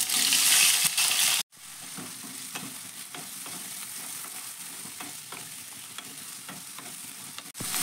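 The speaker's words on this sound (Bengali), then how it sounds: "তেলের উপরে দিয়ে দিচ্ছি আলু ভাজার পরিমাণে লবণ আর দিয়ে দিচ্ছি হলুদ" Drained potatoes fry in hot oil with salt and turmeric, giving a steady, close sizzle broken by clinks and scrapes of stirring, with one brief gap in the sound and no voices.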